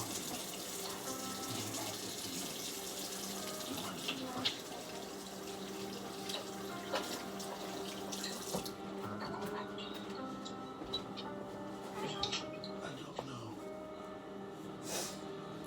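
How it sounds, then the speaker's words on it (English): A kitchen tap runs steadily while raw egg is washed off hands during brownie baking, water splashing in a sink under a person's talk before the flow cuts off. "I'm gonna wash my hands because I have raw egg on them."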